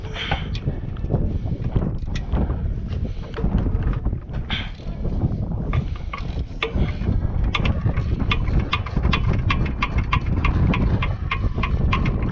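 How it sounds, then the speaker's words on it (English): A standard hand ratchet, not air-powered, loosens engine brackets in the tight space between the frame rail and the front of a Kia 2.4L engine, with bursts of quick clicking over steady background noise. "Now the reason I'm using a standard non-air ratchet is I don't have a lot of room between the frame rail and the front of this engine assembly."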